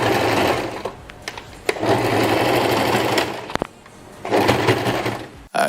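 A domestic sewing machine stitching and back stitching wig hair wefts, running in steady loud bursts of rapid needle motor whir with brief pauses between runs.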